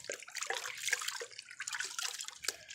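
A paint brush swished and squeezed in water, with sloshing and splashing pulses repeating every half second or so, close by.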